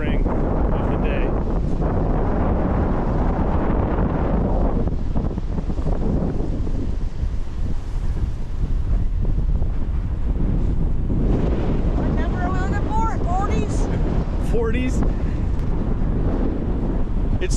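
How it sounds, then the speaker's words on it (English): Gusty outdoor wind buffeting the microphone during a metal detecting outing, a constant low roaring rumble with people talking intermittently over it. "It's still windy."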